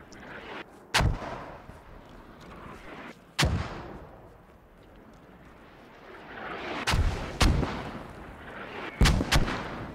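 Enemy mortar rounds thump down repeatedly in the Squad video game, about five sharp, heavy impacts spaced unevenly, some in quick pairs, each trailing off in a rolling rumble, with no talk.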